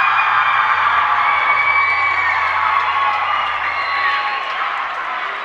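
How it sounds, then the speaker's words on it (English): Loud, rabid crowd at the end of a Greeley Central vs Greeley West high school girls basketball game, a sustained roar of cheering and shouting that holds steady and fades slightly toward the end. "in front of a very loud and rabid crowd"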